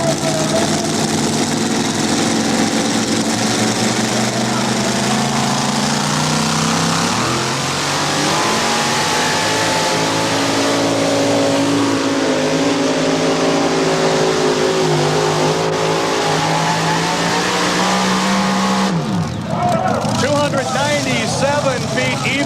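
Two-wheel-drive pulling truck Wicked Willie from Shelbyville, Indiana, roaring at full throttle at a 1993 NTPA truck pull, a loud sustained engine drone with rising pitch that cuts off abruptly near the end, with a commentator talking over it.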